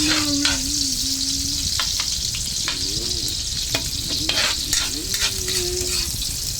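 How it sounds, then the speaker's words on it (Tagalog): Onions sautéing in a hot pan for a tamarind chicken dish, a steady loud sizzle with occasional stirring scrapes, plus a faint tonal hum and background music running through. "unahin po natin syempre yung sibuyas sa pagigisa"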